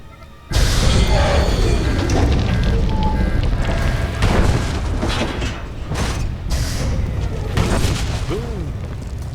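Reactor overload explosion in Star Wars: The Old Republic: a heavy boom erupts abruptly, then sustained loud rumbling and crashing debris continue throughout, with a few further bursts and a voice briefly heard.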